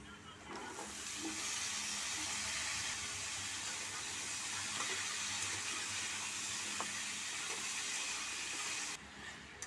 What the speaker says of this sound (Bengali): কুমড়োটা দিয়ে দিচ্ছি।